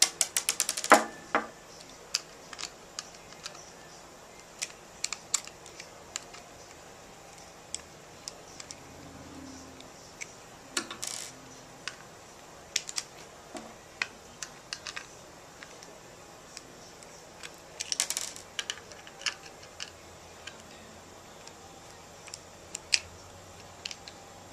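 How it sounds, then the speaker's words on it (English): A screwdriver backs out the display screws of a Psiber LE80 device in a series of small, scattered, close clicks and ticks with quiet pauses between them. "we need to take our screwdriver again and unscrew all 4 of the display screws"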